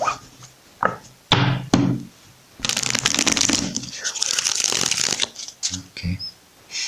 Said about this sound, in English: Okay, give me a second, just one more shuffle.